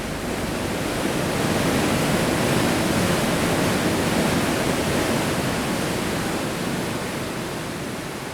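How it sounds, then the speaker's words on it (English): Loud, steady roar of the powerful Pinware River in Labrador, heavy with snowmelt and rain, rushing near falls as a dense, unbroken wash of water that holds constant for the whole stretch with no voices. "rush down this powerful river"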